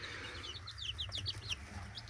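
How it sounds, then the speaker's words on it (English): Newly hatched chick peeping in a series of high, quick chirps close by, over a low steady background hum. "That's a nice little healthy little chick."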